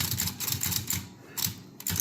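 A Corona 3 folding typewriter mechanism clacking through a run of quick, evenly paced keystrokes, crisp and close, with a brief pause before the final strikes.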